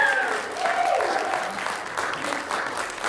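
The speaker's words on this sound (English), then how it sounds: "This deserves a round of applause." A crowd applauds in a dense, continuous wash of clapping that holds steady throughout, with a faint tone briefly riding over it.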